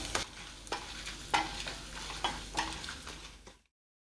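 Chana dal with urad and moong dal fries in oil in a pan for tomato coriander chutney. Gentle continuous sizzling runs under repeated clicking stirs of a spoon against the pan, close and moderately quiet, then cuts off near the end.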